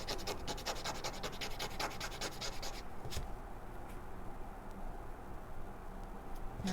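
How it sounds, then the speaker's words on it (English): A small sander scrubs across a paper greeting card during winter card-making, with rapid, close, scratchy rasping strokes for about three seconds before it stops. "Where's my sander?"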